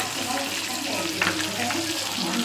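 Fish frying in hot oil, a steady close crackling sizzle with spitting pops, continuous and fairly soft.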